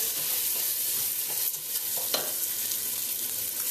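Rice stirred into melted butter in a pan gives a steady close sizzle with faint scraping of a utensil, continuous and even throughout; no voices.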